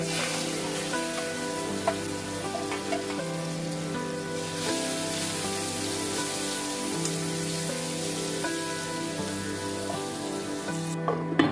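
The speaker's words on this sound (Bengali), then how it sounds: "আমার মাংসটাকে পাঁচ মিনিট ম্যারিনেট করে রেখে দেওয়া হয়ে গেছে এবারে এই তেলের মধ্যেই ভেজে দিব" Marinated meat fries in hot oil for a restaurant-style chow mein, giving a steady sizzle under continuous background music that stays fairly loud throughout.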